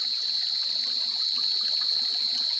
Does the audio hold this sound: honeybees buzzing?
no